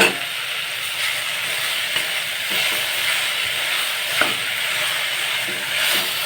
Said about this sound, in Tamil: நல்லா ஸ்மாஷ் ஆகிற அளவுக்கு நல்லா வதக்கிக்கலாம்